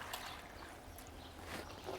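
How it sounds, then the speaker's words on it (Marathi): Leafy greens being rinsed twice in water give faint splashing and trickling sounds, soft and close, with short bursts of swishing water. "डबल पाण्याने धुवून घेऊ"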